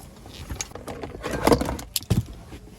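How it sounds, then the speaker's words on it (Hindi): Car keys jangle as they are picked up indoors, a few quick metallic clinks and rattles that come close in short bursts. "और गाड़ी की चाबी उठा लेता हूँ मैं"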